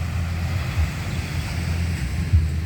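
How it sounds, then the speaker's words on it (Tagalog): Ocean waves lap against the shore at dusk, a steady low wash of surf with gentle swells and some wind rumble, close and continuous without talk. "maririnig lang natin dito ay lagaslas ng mga alon"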